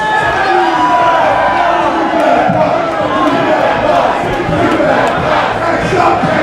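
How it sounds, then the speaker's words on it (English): Wrestling crowd at an underground show chanting a tag team's name, a loud, continuous roar of many voices with rhythmic swells throughout. "I never thought I would hear Two Bad Pie chant here in the underground."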